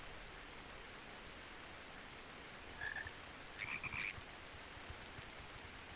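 Frogs croak in the Final Fantasy video game, two short, faint bursts heard far off against a steady hiss of rain-like background noise.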